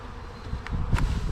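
A half-cup scoop of honey bees is taken from an untreated colony. Their buzzing comes up close as a short, soft hum, mixed with a few light scraping bumps.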